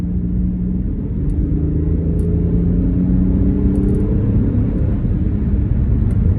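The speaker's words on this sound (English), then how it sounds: "I'm gonna kick the car into sports mode so you can hear the engine turn up real quick" Lexus RX engine in sports mode, a steady low rumble with rising harmonic tones as the throttle opens, loud and close with no voices over it.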